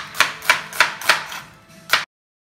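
A knife slices food on a cutting board in five sharp, evenly spaced chops, close and crisp, with a short pause before the last cut and no voices.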